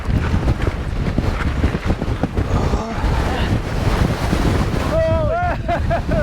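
Wind gusts blast across a desert mountain bike trail in a palm canyon, a constant loud roar buffeting the microphone, with a brief voice near the end.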